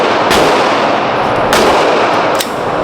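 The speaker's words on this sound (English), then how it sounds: "That Vector the smoothest gun I ever shot." A Vector gun fires at a shooting range: three loud, sharp gunshot cracks spaced about a second apart over a dense, roaring indoor range background with heavy echo.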